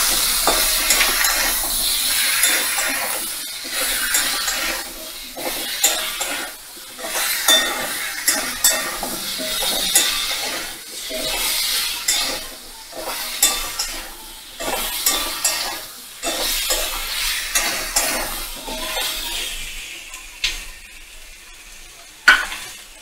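Ginger garlic paste is stirred and fried in a pan for a pumpkin and shrimp dish: a steady close sizzle broken by repeated scraping strokes and light clinks of a utensil against the pan, without speech.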